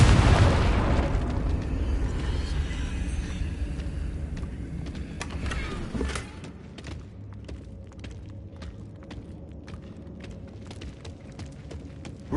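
Confringo blasting spell explosion in Hogwarts Legacy on PS5: a loud, deep boom at the start that decays into a long rumbling tail with scattered crackles and debris pops.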